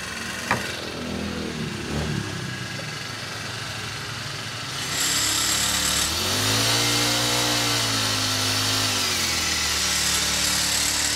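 Fujima 4-stroke knapsack sprayer engine: quiet background and small knocks at first, then the engine starts around the midpoint and runs loud and close, its pitch rising and falling as it revs before settling into a steady drone.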